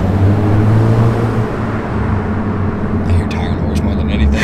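Road roar of tires from a supercharged Viper-powered truck, a steady broadband rumble with a low engine drone, and someone talking over it throughout.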